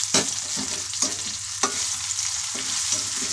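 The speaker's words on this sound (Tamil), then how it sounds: "வெங்காயம் நல்லாவே வதங்கிருச்சு." Onions sautéing in a pan for chutney make a close, steady sizzle, punctuated by rhythmic scrapes of a spoon stirring them roughly every half second.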